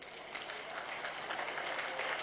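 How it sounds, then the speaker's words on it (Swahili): Brief, fairly faint applause from the crowd at a polio vaccination campaign launch event in Bungoma, a steady patter of clapping for about two seconds. "So mtupigie makofi tafadhali."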